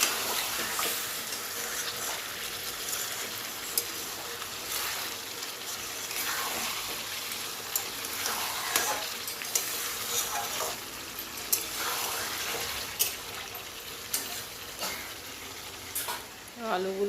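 Water poured onto fried spice paste for a potato and cauliflower curry sets off a loud, continuous sizzle and bubbling that holds steady throughout, with a few sharp spatters and stirring knocks.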